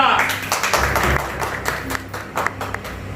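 Audience applause at a Punjabi play staged at Kala Bhavan in Phagwara, a dense patter of many hands clapping close up, with a voice speaking over it.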